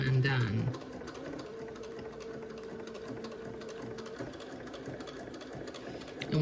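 Sewing machine stitching back and forth on a tab of an Eton suit: a steady, close mechanical whir running for several seconds, with a brief clatter at the start and a person talking over it.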